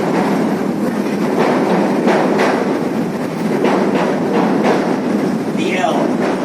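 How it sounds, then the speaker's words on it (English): A Chicago L elevated train rumbling past close by, a loud continuous roar with rhythmic rail clatter and a faint metallic squeal near the end, with a voice talking under it. "Our subway. There it goes. It's pretty noisy."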